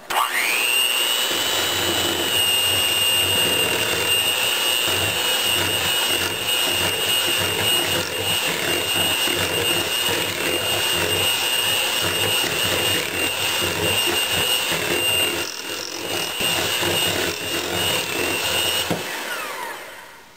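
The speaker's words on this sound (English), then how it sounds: "I'm just going to go ahead and mix this together a little bit." An electric mixer whirs loudly and continuously for about twenty seconds as it blends a low-carb banana mousse with vanilla extract, a close, high motor whine with small wobbles in load, then cuts off abruptly.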